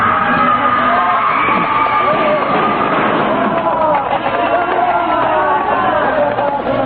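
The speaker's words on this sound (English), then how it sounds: "hysterical mob sweeps through the streets, driven on by the lashing whips of the mounted police" A hysterical mob surging through city streets in a radio drama, a loud continuous roar of many shouting, bellowing voices crowding together, dense and chaotic throughout.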